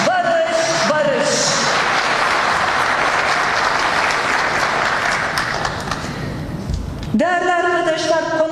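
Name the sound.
applause and ululation at a political rally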